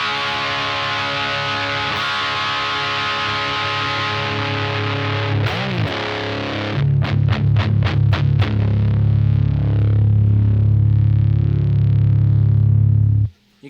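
An electric guitar runs through a FUZZimp Obtainium Overdrive pedal, giving a thick, buzzing fuzz and overdrive tone with sustained distorted chords, a burst of choppy strums midway, then a long heavy ringing drone that cuts off abruptly.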